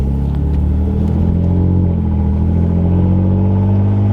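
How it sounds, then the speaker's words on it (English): A Gen 3 Toyota Tacoma fitted with a Carven exhaust accelerates onto the highway toward 55 mph, a loud, steady low engine rumble and drone heard from inside the cab. "we'll see what the acceleration is like and sound going to like 55-ish"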